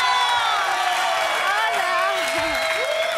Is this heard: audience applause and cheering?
yes